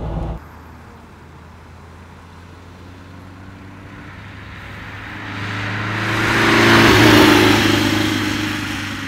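A 1958 Porsche 356 A built by Emory Motorsports, race-prepared, accelerating; its engine note rises steadily from a low idle into a loud, swelling rev that peaks near the end, with no talk over it.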